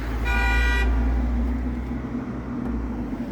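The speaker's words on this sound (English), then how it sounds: "see the car beeping there, don't know why" A car horn sounds a sustained, fairly loud tone for about half a second near a Temsa HD12 coach, set against steady low traffic and engine rumble that continues afterward.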